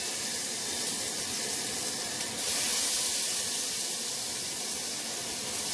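Garlic sizzles in a hot pan while a Brussels sprout gratin casserole is made, a loud, even, close hiss that runs unbroken and rises slightly midway, with no talking.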